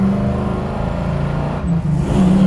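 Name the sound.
1969 Chevrolet Camaro RS/SS 572ci driving off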